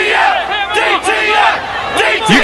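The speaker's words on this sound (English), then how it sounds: "You can hear the crowd here at Veterans Memorial Stadium" A loud stadium crowd roars and yells continuously at a fight event at Veterans Memorial Stadium in Cedar Rapids, with massed voices rising and falling in waves.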